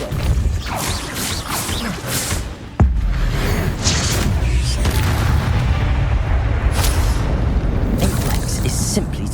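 A Descendo spell strikes in Hogwarts Legacy, landing as a deep boom with crashing debris. The hit comes in dense, rumbling bursts, followed by a sharp impact near the three-second mark and continued heavy rumble beneath game effects.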